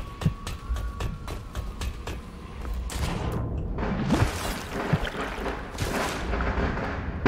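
Rapid strings of firecrackers pop and crackle in the video game Dishonored, sharp bursts at first, then a denser rumbling barrage of bangs that keeps rolling on.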